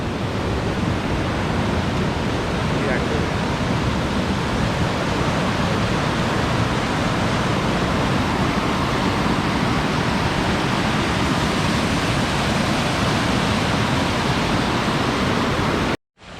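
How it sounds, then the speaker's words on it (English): Rushing river rapids on the Melcocho River in Colombia make a steady, close roar of churning water that never lets up, then cut off abruptly at the end. "Let's see if I can make it across these rapids"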